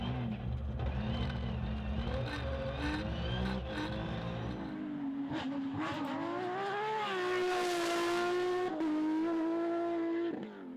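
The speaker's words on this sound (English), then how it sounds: "as you can hear, my engine is not really sounding right" A Porsche rally car engine running rough revs unevenly, its pitch rising and falling with rough, stuttering changes, loud and close with no talking.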